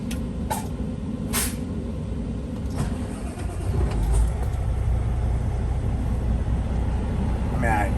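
A big diesel truck, with a 389 glider mentioned nearby, cranks and starts up on a warm day, its loud low rumble settling into a steady idle, with a few brief clanks and hisses early on.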